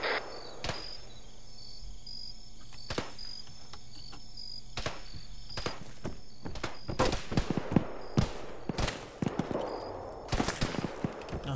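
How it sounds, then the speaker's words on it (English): Gunfire opens up during a platoon-sized firefight: scattered sharp shots at first, then bursts of rapid overlapping reports growing denser, with insects chirping steadily in the background. "They're opening up fire."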